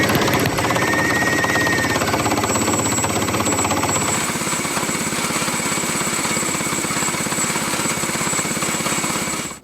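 Small engine on a Frontier OS18 portable sawmill runs with a steady, loud, buzzing drone, dropping slightly in pitch partway through as the throttle eases, with no voices.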